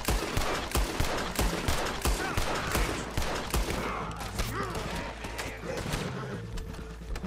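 Rapid dual-wielded gunfire in the Red Dead Redemption 2 video game, loud, close shots cracking in quick, irregular succession throughout, with a noisy outdoor battle behind them.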